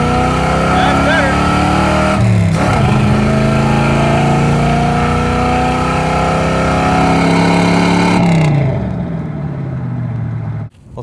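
A car engine on a test run accelerates steadily and loudly from about 25 mph, its pitch rising through a long pull before easing off near the end.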